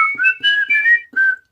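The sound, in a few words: person whistling to imitate a sound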